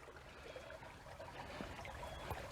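Quiet creek water trickles and burbles steadily past a bank at a gold prospecting spot, a soft continuous flow with small splashes, fairly distant and low in level.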